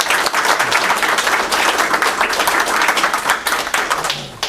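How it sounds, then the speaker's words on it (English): An audience at a Code Camp coding conference on Rails and Node.js gives a loud, continuous round of clapping that holds steady, then tapers off toward the end. "let's just give them a round of applause."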